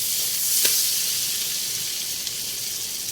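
Onion dropped into hot garlic butter in a pan, a sharp initial hiss and then a steady, close, dense sizzle that runs on alone.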